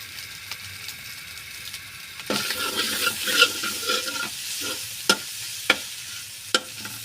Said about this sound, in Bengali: সুন্দর করে পাকিস্তানি ডিমের ভাজি দেখেন